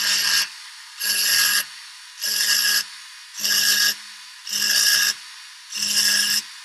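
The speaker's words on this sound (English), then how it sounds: "you can also get it with using a ball burr and making some lovely little designs with that." A ball burr on a rotary tool carves small decorative texture designs, heard as six evenly spaced bursts of close, gritty, high-pitched grinding separated by short pauses.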